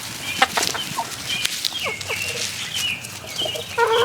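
A flock of hens clucks and murmurs excitedly as they are fed kale and spinach, with overlapping short calls, a few sharper squawks and light pecking sounds close by.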